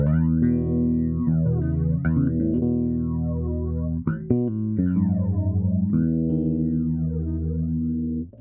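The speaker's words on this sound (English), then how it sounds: "this one then goes into the Boss BF3 Flanger" Bass notes and chords play through a Boss BF-3 Flanger pedal, a sweeping, jet-like whoosh repeatedly rising and falling over the sustained tones with a gritty edge.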